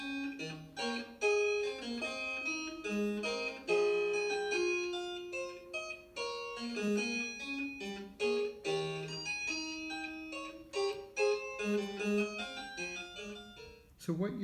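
An instrumental piece plays steadily with sustained chords and melodic lines, in a temperament tuned by ear that sounds slightly uneven, with no voices.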